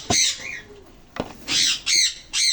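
Breeding lutino birds on a bird farm give harsh, loud squawks close by, a sharp call followed by a quick run of three bursts, with no talking over them.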